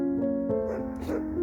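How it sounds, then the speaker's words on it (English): Dogs on a horse farm whimpering and yipping excitedly in short bursts, close and fairly loud, with a steady tonal hum running underneath. "The dogs are going nuts."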